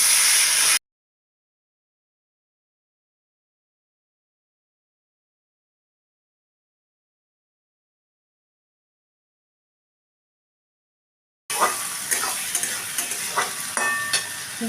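Long bean (borboti) paste hits a hot pan and fries with a brisk sizzle and scraping stirs, heard briefly at the start and again for the last few seconds after a long silence.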